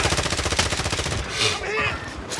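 Video game gunfire rattles in rapid automatic bursts, loud and close, with shouted callouts from players mixed over the shots.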